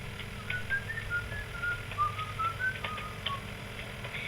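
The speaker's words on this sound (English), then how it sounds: "I'll whistle to keep our courage up." A person whistles a slow, wavering tune of sustained notes that slide up and down, moderately loud and alone over a low steady background hum.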